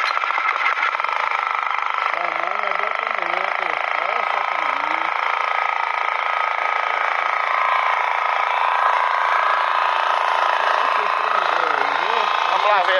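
A small 3 hp motor-driven water pump engine runs steadily and loudly throughout, a constant buzzing drone with no breaks, while a voice speaks briefly over it.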